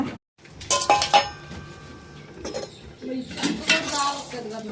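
Steel containers and bowls clink and clatter in several sharp metallic knocks, close up, while powder is stored in them, with a soft voice murmuring in between.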